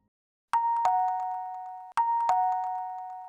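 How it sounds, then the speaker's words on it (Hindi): A home doorbell rings two times, each ring a clear two-tone ding-dong, close and loud against silence. "अब हमारे घर की घंटी बजा रहा है"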